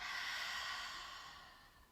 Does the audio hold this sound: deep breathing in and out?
yes